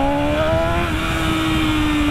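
A BMW S1000RR sportbike pulling hard in first gear, its engine holding a loud, steady high-pitched drone that climbs slightly in pitch, close to the microphone with wind rush underneath.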